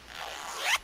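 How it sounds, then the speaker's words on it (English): A short zipper pull opens a wallet in a casual adventure game, one smooth rising zip lasting under a second, close and clear with no talk. "Zipper pull."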